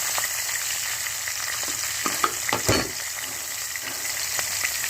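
Asafoetida sizzles in hot oil for a tempering, a steady hiss of frying with a few louder spits and crackles near the pan, no voices over it.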